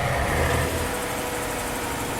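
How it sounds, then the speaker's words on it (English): A car engine on a highway shifts into engine braking, giving a steady, loud, rumbling drone with a slightly heavier swell near the start, heard alone without talk. "Oh yeah, it has engine braking sounds as well."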